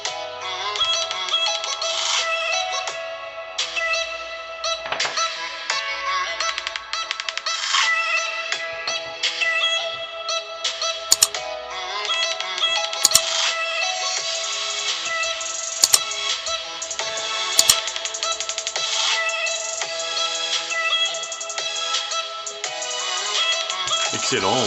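An iPhone 8's single built-in speaker plays a ringtone melody, a steady, fairly loud run of bright musical tones with a few sharp chime-like accents, continuous for the whole stretch with no talking.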